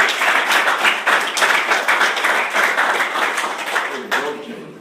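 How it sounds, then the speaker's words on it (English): A small crowd at a meet-and-greet gives a round of applause, with dense, close clapping holding steady and then tapering off, and voices mixed in. "Can we get a round of applause from the"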